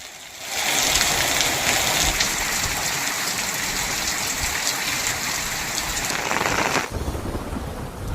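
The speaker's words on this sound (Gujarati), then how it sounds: "ક્યાંક ઝરમર તો ક્યાંક ધોધમાર વરસાદ શરૂ થયો" Heavy monsoon downpour in Naswadi, Chhota Udepur, a dense, loud, steady roar of rain that swells in quickly and holds evenly before dropping off abruptly near the end.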